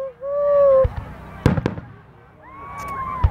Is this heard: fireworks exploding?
yes